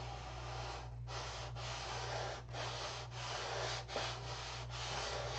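A lightweight hard Durablock sanding block with 320 grit paper is rubbed back and forth on a model stunt plane, producing steady, close, rhythmic rasping strokes with brief pauses between passes and no talking.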